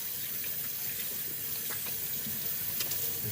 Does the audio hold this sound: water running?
yes